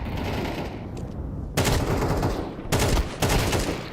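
Rapid bursts of automatic gunfire crack out during a competitive esports video game match at IEM Melbourne 2025: a sustained spray, a pause, then two more short loud bursts, with no talk over them.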